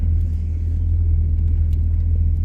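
A 1975 C3 Corvette Stingray engine idles close by, a steady low rumble with an even pulsing throb and no change in revs.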